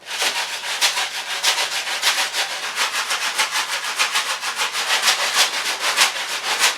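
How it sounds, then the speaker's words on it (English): Homemade rice bags used as shakers swish in a steady, even rhythm, each close, bright grainy rustle following the last at a quick regular pace with no talking. "Okay, I have the rice bags. These work just as well as shakers."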